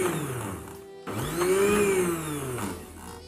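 Electric grinder whirring as it dry-grinds roasted crushed cumin with spices for falafel, a loud steady motor drone that cuts out briefly then surges back with rising and falling pitch.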